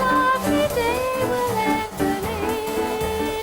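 An old recording of a school jazz band playing at a charity show, with full ensemble harmonies and horn-like lines sustained continuously at a steady, fairly loud level.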